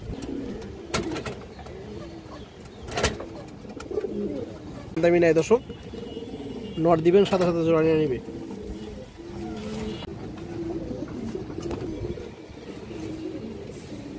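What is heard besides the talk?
Lal Chuli female pigeon cooing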